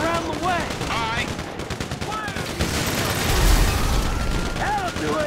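Sustained automatic gunfire crackles in a roadblock shootout in Grand Theft Auto 5 on PC, dense rapid bursts over a rumbling bed, with characters shouting between the shots.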